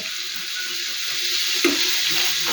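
Sliced onion frying in hot oil in a pan while preparing a prawn roast, a steady bright sizzle with a soft clink of stirring partway through, close and with no speech.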